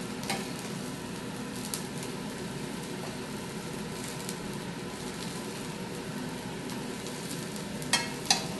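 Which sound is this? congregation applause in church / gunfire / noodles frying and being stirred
noodles frying and being stirred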